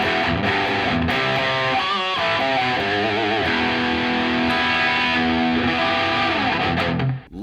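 Electric guitar played through a Boss Katana Artist MK II amp on its crunch channel with a booster engaged, giving continuous dense, loud crunchy chords and notes for several seconds before cutting off.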